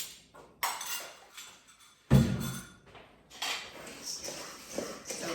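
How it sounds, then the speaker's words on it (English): Dry banana granola ingredients are mixed in a bowl with a utensil, giving several distinct clinks and scraping rattles against the bowl in an irregular rhythm, close and fairly clear. "So you can just mix up those ingredients."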